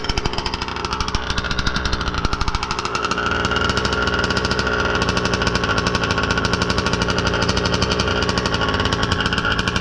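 The gas engine of a Baja 5B RC car idles right after its first start, a loud, fast, buzzy rattle that stays steady for the whole stretch.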